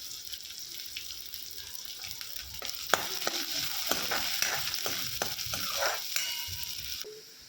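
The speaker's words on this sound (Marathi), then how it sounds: "यात आता मी कांदा घालणार आहे दोन ते तीन मिनटं कांदा मध्यम आचेवरती परतून घ्यायचा आहे" Onion frying in a pan over medium heat after curry leaves have crackled, with a steady sizzle and bursts of stirring scrapes, close and moderately quiet, no talking.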